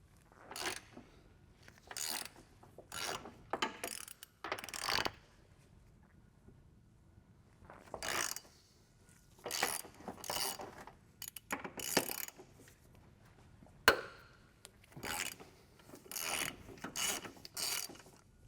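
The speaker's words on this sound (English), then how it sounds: "we should be able to lower it down with the pull jack" Pull jack being worked to lower the front subframe of an MK5/6 Volkswagen, repeated short ratcheting clicks in bursts with pauses between, close and fairly quiet.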